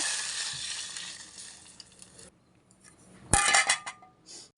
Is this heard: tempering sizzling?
yes